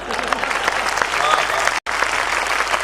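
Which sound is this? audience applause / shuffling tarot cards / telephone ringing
audience applause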